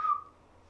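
A single short, clear human whistle, bright and high, fading quickly into near silence.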